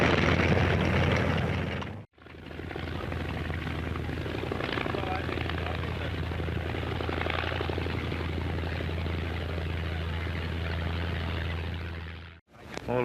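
A vintage 1929 airplane flies during an aircraft safety competition, its engine and propeller giving a continuous droning roar, interrupted by two abrupt cuts in the recording.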